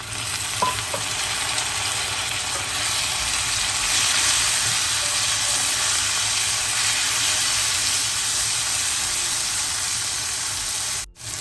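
Chopped onions sauté in a pan until golden before tomato goes in, a steady close sizzle and hiss with faint stirring, continuous and alone.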